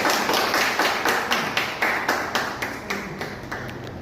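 A small audience claps for a volunteer speaker at a Toastmasters public-speaking session, a few people producing a loose, rhythmic patter of distinct claps that gradually slows and thins out over about four seconds.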